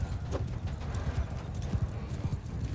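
Horse hooves clip-clop in a quick, steady rhythm over a low rumbling background in Mount & Blade II: Bannerlord, with no voices.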